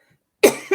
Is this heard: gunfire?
no